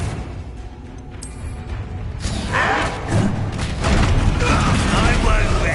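The Confringo fire spell being cast in Hogwarts Legacy, a building whoosh followed by crackling, booming bursts and mechanical rattling that swell and stay loud.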